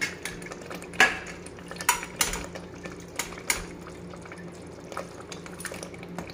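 Pieces of marinated goat meat go into a cooking pot of spinach, with scattered clinks of a metal spoon against the pot and soft wet stirring and sizzling, the sharp taps spaced irregularly over a low background.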